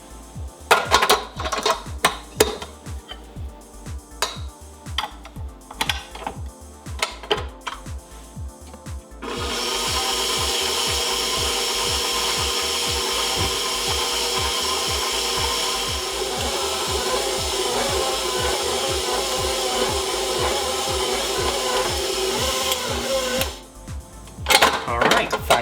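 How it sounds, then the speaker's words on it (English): A stand mixer kneads Hawaiian roll dough in a steady, loud, continuous whir that runs for about fourteen seconds, framed by clattering, knocking handling sounds before and after. "And now move it to the mixer."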